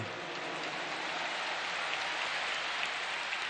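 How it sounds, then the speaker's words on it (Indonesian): Massive crowd applause at a stadium political campaign rally, a faint, distant, continuous rain-like roar of clapping with no distinct individual claps. "Tepuk tangan buat semua yang hadir di sini."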